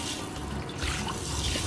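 Water runs steadily from a hose or tap into a garden bird bath, a continuous close splashing and filling sound with no talking.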